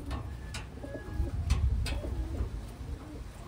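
Pigeons, including checkered medium-sized birds, coo softly in low, repeated phrases at close range. Faint background noise runs underneath.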